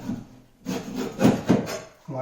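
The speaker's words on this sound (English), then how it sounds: "Go around here and scrape all this old caulking off here." Old caulking being scraped off a cheap builder-grade bathroom vanity countertop, a few short gritty rasping strokes in bursts with brief pauses, close and fairly loud.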